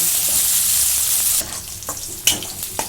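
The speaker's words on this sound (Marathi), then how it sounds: "याच्यामध्ये कांदा टाकून घेतो एवढा चिरून घेतलाय आणि कढीपत्ता भाजून घेते" Onion and curry leaves frying in hot oil, a steady bright sizzle that drops off partway through, followed by a few sharp stirring clinks and scrapes in the pan.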